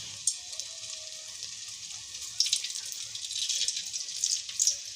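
Chicken potato Maggi rolls dropped into oil over medium-low heat, a soft continuous sizzle and bubbling with a few crackling pops, fairly quiet.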